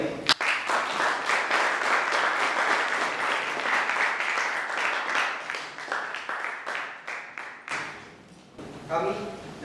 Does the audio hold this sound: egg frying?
no